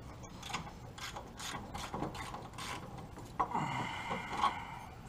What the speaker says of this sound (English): We're gonna undo those bolts right there, and then also the bolts right here.